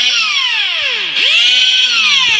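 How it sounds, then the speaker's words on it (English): A cordless drill runs loudly and continuously, its motor whine rising and falling in pitch several times as the speed changes, close and alone with no talking. "That was a drill. A cordless drill."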